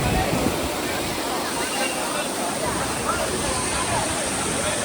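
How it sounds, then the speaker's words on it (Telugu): The Vibhuti waterfall roars steadily as a dense, unbroken rush of falling water that fills the scene at close range. "సో ఇంతే లొకేషన్, విభూతి వాటర్ ఫాల్స్ అనమాట."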